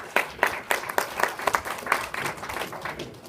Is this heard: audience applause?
yes